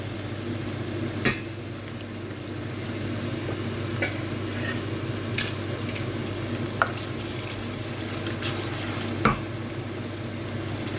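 Ginger paste frying with softened tomato and onion in a pan for aloo palak, a steady low sizzle under occasional spoon scrapes and taps against the pan, close and without talk.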